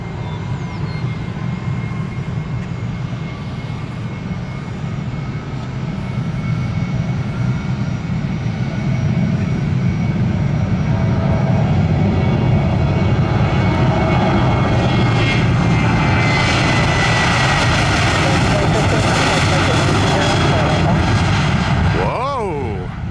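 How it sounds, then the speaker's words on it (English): A Delta Boeing 757 takes off on runway 17 right at Orlando using an ultra low performance setting, its engine roar loud and sustained, building broader toward the end as the jet passes close. "That was a ULP, ultra low performance takeoff setting, if I've seen one."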